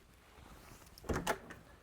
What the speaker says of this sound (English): Oh, I hear a door.